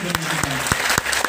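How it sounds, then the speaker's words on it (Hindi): A few sharp, evenly spaced claps ring out from the audience at a motivational speech during an RCM Keysoul zonal programme in Mumbai, heard beneath a talking voice. "तो ताली बजा लीजिए आप,"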